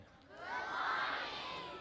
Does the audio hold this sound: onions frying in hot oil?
no